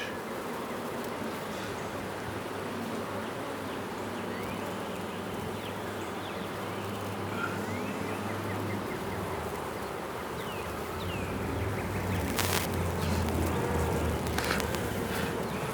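A steady, dense buzzing of many honeybees at a hive drawing wax hums continuously close by, with brief louder passes of individual insects near the end.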